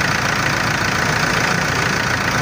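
A 2018 Mitsubishi Triton GLX single cabin 4x2 pickup idles steadily and close up, its engine giving an even, continuous rumble with no speech over it.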